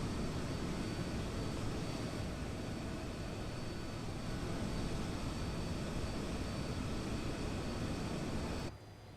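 A simulated airliner takes off in Microsoft Flight Simulator at Amsterdam Schiphol, a steady loud broadband engine roar holding throughout before dropping off abruptly at the very end.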